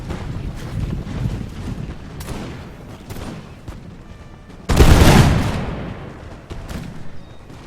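Musket volley fired by a line of grenadiers in a historical battle video game, one loud sudden burst midway that decays slowly, set against windy battlefield ambience and scattered distant shots.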